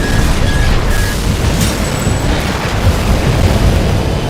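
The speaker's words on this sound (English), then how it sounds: "someone's using some sort of electronic type of weapon here" Electronic weapon fire in the mech combat game Armored Core 6, loud continuous booming bursts with a rumbling low end and brief high zaps layered over the din of battle.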